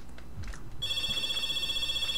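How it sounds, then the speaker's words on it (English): A phone rings with a sustained electronic ringtone tone, starting abruptly partway through after a few soft background sounds, then ringing steadily and fairly loud to the end. "Phone going off."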